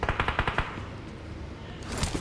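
Automatic gunfire in the PUBG Mobile battle royale game cracks out as a rapid burst of close shots, followed by a quieter stretch and then another short volley.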